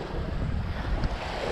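Strong north wind buffets the microphone during a storm at a carp-fishing spot on the shore, a steady loud broadband roar with surf-like washing and no speech.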